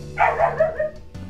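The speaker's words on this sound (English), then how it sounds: "Dog was barking there for a sec." A house dog barks a few quick times at close range, short sharp yelps bunched together in about a second, with no talk over them.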